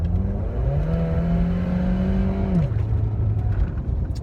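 A car on a city street accelerates hard, its engine note climbing steadily in pitch, then dropping as it shifts gear and pulls on, loud and close with no talk.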